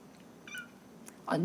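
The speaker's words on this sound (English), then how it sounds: "All the cats are talking now. That's one of my foster kittens." A foster kitten meows indoors, a short high mew early and a louder cry at the end, close to the microphone over a quiet room hum.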